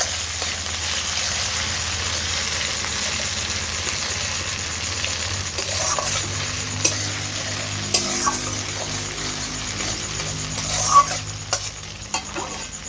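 Ginger paste and slit green chillies being stirred together in a pan give a steady soft sizzle, with spoon scrapes and light clinks growing more frequent toward the end.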